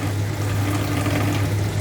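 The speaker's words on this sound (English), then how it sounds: "then we'll just add some water" Water runs steadily into a cooking pot as the liquid for sothi, a turmeric-spiced dish, a continuous close pouring hiss with no voices.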